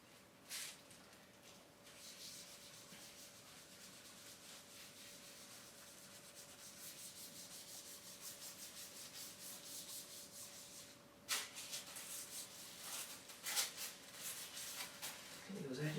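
Tissue rubbing gently across the edges of a part-plastic photopolymer gravure plate, a soft steady wiping swish at close range that runs throughout, with a few sharper brushing strokes near the end.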